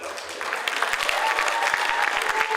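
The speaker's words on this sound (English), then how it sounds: "A big hand clap for them." An audience at a university graduation ceremony gives a brief burst of warm, continuous applause, many hands clapping together in a large hall.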